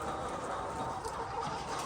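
Layer hens on a 10,000-bird poultry farm cluck and chatter in a dense, continuous mass of overlapping calls, steady and moderately loud with no distinct single bird.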